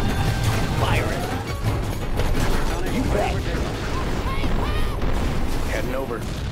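Weapons fire in the United Faction real-time strategy game as a dense battle din of rapid shots, mechanical clatter and booms. A voice speaks over the continuous loud noise.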